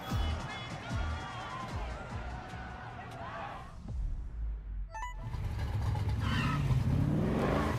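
A car engine in the video game Need for Speed Heat revs and whirs, rising in pitch toward the end, with a voice talking over the engine noise.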